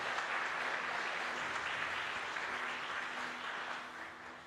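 A church congregation applauds the volunteers of its missionary canteen, a steady, fairly distant patter of clapping that holds evenly and then tapers off at the end.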